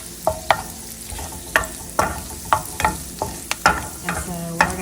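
Kohlrabi sautéing in butter with salt and pepper: a low sizzle broken by regular, distinct taps and scrapes of a spoon or spatula against the pan, close and fairly loud.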